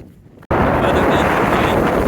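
Strong wind blasts across the microphone on a windy desert hike among the Antelope Valley buttes, starting abruptly after a brief quiet moment and then roaring on loud and unbroken.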